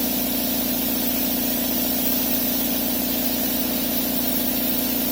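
A rebuilt air compressor runs steadily as it builds pressure, giving a constant loud mechanical hum and thrum with a low motor drone and no pauses or speech.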